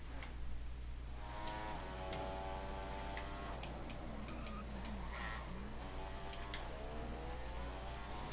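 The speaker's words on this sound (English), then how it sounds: "I might as well go full revs as well." A Formula 1 car engine in the F1 2015 video game whines and revs in rising and falling sweeps, with sharp ticking clicks over a low steady hum.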